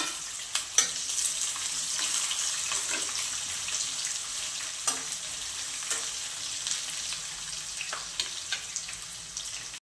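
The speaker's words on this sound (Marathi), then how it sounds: "तर कांदा आता छान असं लालसर परतून घ्यायचा" Chopped onion frying in a pan for upma with peanuts and green chillies, a steady close sizzle with scattered stirring clicks and scrapes, no voices.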